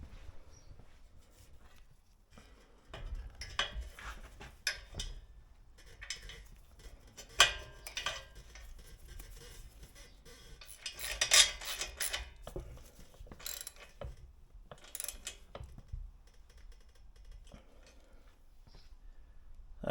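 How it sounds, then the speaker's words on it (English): Metal bolts and parts are rummaged through by hand in a scooter workshop, giving scattered, close, faint clinks and rattling bursts separated by quiet pauses. "I'm going to dig through all of this and find the right bolt"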